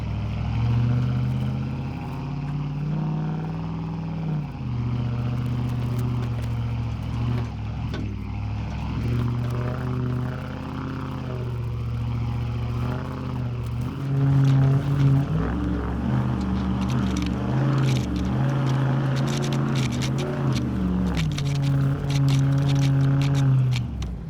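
Dodge Ram HEMI pickup with a Flowmaster dual exhaust climbing an off-road section, its engine droning loud and close throughout, with the rumble rising as it pushes up the slope.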